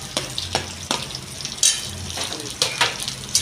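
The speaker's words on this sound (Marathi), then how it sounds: "मग ह्याला स्टर फ्राय करायचं असं म्हणजे त्याला कुक करायचं" Lightly roasted cauliflower is stir fried in a pan: a steady sizzle runs throughout, broken by repeated scraping strokes of a spoon at a loose, irregular rhythm, close up and fairly loud.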